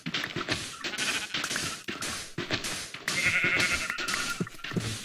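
Sheep bleat repeatedly in Minecraft, blocky game animal cries coming close and loud in quick succession over game ambience, with no talking.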